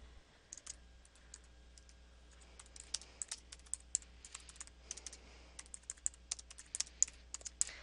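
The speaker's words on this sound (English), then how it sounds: "So type whatever is pertinent to you." Quiet, close typing on a computer keyboard: a loose, irregular run of soft key clicks that grows busier and sharper toward the end, over a low steady hum.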